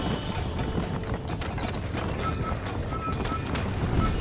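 A horse gallops in the Red Dead Redemption video game, its hooves making a steady, rapid clip-clop rhythm against continuous outdoor game ambience, with no talking.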